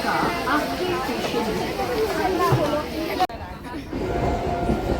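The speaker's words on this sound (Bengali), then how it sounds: "প্ল্যাটফর্মে ঢুকছে ট্রেন" A Ranaghat–Bangaon local train rumbles and clatters steadily as it rolls into a station platform, with a busy wash of noise and voices around it and a brief cut midway.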